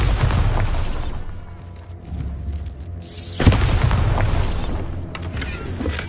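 A Bombarda spell explodes in the video game Hogwarts Legacy: one loud booming blast rises mid-clip over a rumbling game soundscape, with crackling debris around it and other fighting noise before and after.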